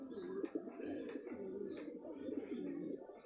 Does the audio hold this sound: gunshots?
no